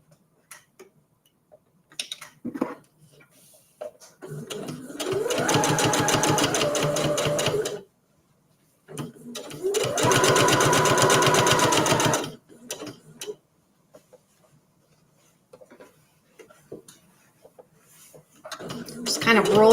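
A sewing machine stitches a Christmas tree table runner in two long bursts of rapid, even mechanical chatter, close up, separated by pauses filled with fabric handling and small clicks, with more stitching starting at the end.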